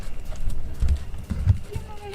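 Hoofbeats of a horse during a jumping ride over a pole, thudding in a steady stride pattern with a person talking over them.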